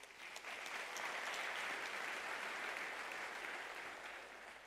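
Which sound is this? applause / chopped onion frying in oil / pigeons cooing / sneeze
applause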